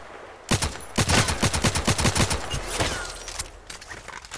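Rapid automatic gunfire in the online shooter Contract Wars, a fast string of sharp close shots fired in quick bursts, about a dozen cracks tightly spaced, then a few scattered shots as it tapers off.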